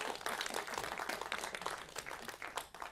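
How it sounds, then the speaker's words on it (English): A crowd applauding at a Griffith Observatory talk, soft and somewhat distant, a dense steady patter of clapping hands throughout. "one more round of applause for them"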